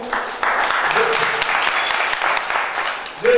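Audience applause at a large French-language conference, a dense wash of clapping lasting the whole moment, with a few voices breaking through the crowd noise.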